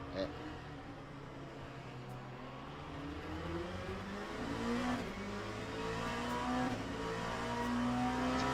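A video game racing car's engine revs steadily throughout, a continuous whirring drone whose pitch climbs and sways as it accelerates, heard at moderate volume under low background sound.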